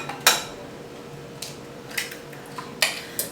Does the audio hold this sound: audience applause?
no